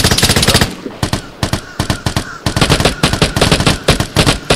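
Loud, close automatic gunfire in the video game Vigor, with rapid bursts of dense shots that stop briefly and start again.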